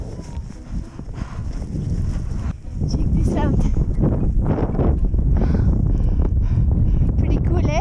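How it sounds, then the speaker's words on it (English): Wind blows hard in a snowstorm on a wilderness kayaking trip, a loud, steady buffeting roar against the microphone that strengthens partway through, with a person speaking briefly over it. "It just started like pouring snow and it was windy"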